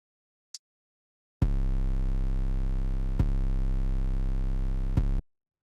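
After a tiny click, a deep synthesized bass tone from Ableton Live holds steadily for about four seconds, rich in low harmonics, with two brief clicks during it.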